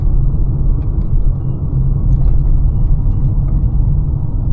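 Engine of a 1999 Volkswagen Golf pulling under light throttle on a residential street, heard from inside as a steady, loud low rumble with a gentle rise and no talking.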